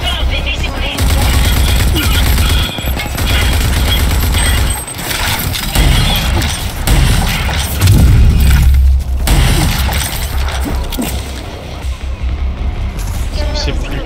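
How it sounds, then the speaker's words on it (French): Heavy gunfire in the video game Rage 2, with dense, loud bursts of automatic shooting and booms running almost nonstop, while someone speaks French now and then. "Ça tire encore."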